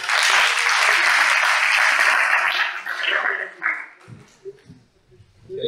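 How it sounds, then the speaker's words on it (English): Loud audience applause at a talk welcoming Dr. Mario to the stage, a dense burst of clapping that thins out after a few seconds into scattered claps and quieter room noise with faint voice-like sounds. "So, an applause, please,"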